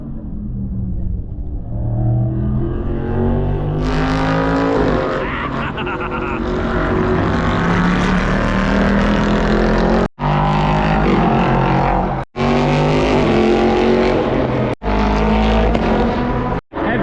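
Race cars roar past at the Hockenheim Ring, a loud, continuous engine drone that rises and falls as the cars pass close by, with a few brief sharp dropouts.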